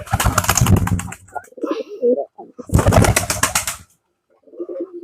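A young pigeon chick coos and calls in short bursts close by, with a person's voice speaking over parts of it.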